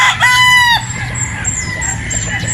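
A straight-comb Possum gamefowl rooster crows loudly and close by, one short crow, followed by low clucking over faint background noise.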